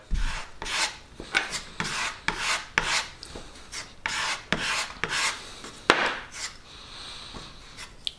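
Two-part coloured wood filler being stirred and scraped before the activator goes in, a steady run of gritty rubbing strokes close up with no talk.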